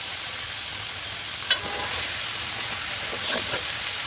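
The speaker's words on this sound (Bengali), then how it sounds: "নাড়াচাড়া করে নিচ্ছি।" Basella greens with their stalks, potato and pumpkin are stirred in a pan over a steady, close sizzle, with a sharp scrape of the utensil and a few softer stirring strokes later and no talking.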